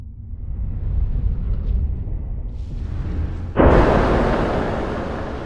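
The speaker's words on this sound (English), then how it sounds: "Let's take a Ridge wallet and then let's shoot it inside, and let's make the bullets fuse inside the wallet" A bullet is fired into a Ridge titanium wallet. A low, steady rumble builds, then one loud, sharp blast hits and its broadband noise slowly fades away.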